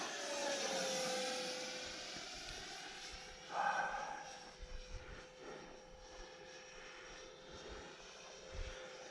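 A small radio-controlled T-33 model jet airplane on a 4S battery whines overhead, a thin steady engine tone drifting in pitch as it passes, faint and distant with wind rumble underneath.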